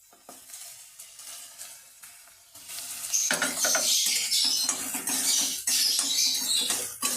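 Chopped ginger, garlic and chili lightly frying in oil: quiet at first, then a sudden loud crackling sizzle with pattering spits and utensil stirring, close up and without speech.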